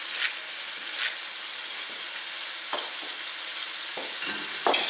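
Seasoned cabbage and beef stirred in a hot skillet, with a steady sizzle of frying and occasional scraping clicks from the stirring utensil, close and moderately quiet.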